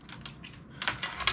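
Light clicking keystrokes on a Dell OptiPlex 3070 Micro computer keyboard, a few quiet taps followed by a slightly louder burst, close and without speech.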